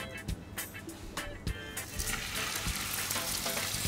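Red mullet fillets, drizzled with olive oil, pan-frying skin side down: a steady sizzle that builds and thickens after the first couple of seconds, with a few sharp knocks and clatters early on, fairly close.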